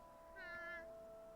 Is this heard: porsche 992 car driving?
no